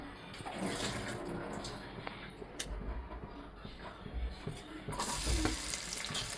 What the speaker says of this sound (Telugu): ఆయిల్, దీనిలో పచ్చిమిరపకాయ, ఉల్లిపాయలు వేసాను